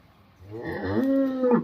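A cow moos once, a long drawn-out low call rising and holding near the microphone, one of five cows kept together for sale; no talking.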